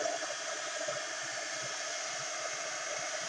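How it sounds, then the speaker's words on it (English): A heat gun blows steadily on gesso over a faux patina finish, a close, constant airy roar with no pauses. "So I'm just going to hit this with the heat gun."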